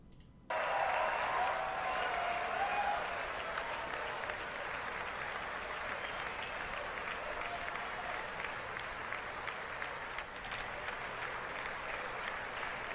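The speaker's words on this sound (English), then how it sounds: "let me go ahead and we'll listen to the insane claps." Sustained, loud applause from Republicans in the House of Representatives welcoming the president at the 2020 State of the Union. The clapping starts abruptly and holds as a dense roar, with scattered voices in the crowd.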